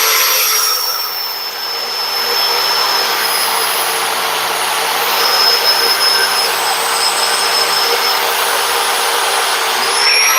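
A DeWalt Helco magnetic base drill bores into steel during a vehicle repair, its motor giving a loud, steady whine with sustained high tones that runs unbroken through the whole stretch.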